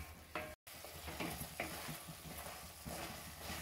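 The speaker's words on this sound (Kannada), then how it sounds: "ಈ ಟೊಮೆಟೊ ಇದೆಯಲ್ವಾ, ಇದು ಚೆನ್ನಾಗಿ ಮೆತ್ತಗಾಗೋ ತನಕ ನಾವು ಇದನ್ನ ಈ ಥರ ಮಿಕ್ಸ್ ಮಾಡ್ತಾ ಇರಬೇಕು" Tomatoes being stirred in a hot pan for tomato pachadi, a steady run of scraping strokes over a soft sizzle, close and moderately loud, with no talk.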